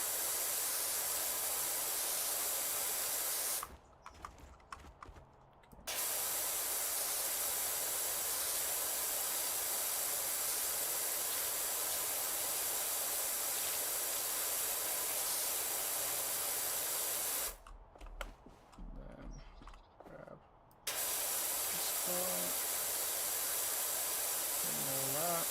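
Steady pressure washer spray hisses through almost the whole stretch in the video game Powerwash Simulator 2, dropping out briefly twice and resuming at the same loud, even level with no talking.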